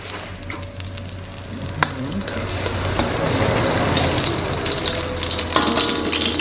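Onion frying in a pan as the first step of sinigang na bangus, a close sizzle that builds and grows louder, with clacks of stirring and faint background voices.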